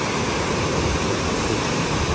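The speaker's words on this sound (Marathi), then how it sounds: "म्हणजे कोकणात जे उंच धबधबे आहेत त्यापैकी हा एक धबधबा आहे." A tall waterfall in the Konkan region, seen near a railway line, roars as a loud, steady broadband rush of falling water with no pauses and no voices.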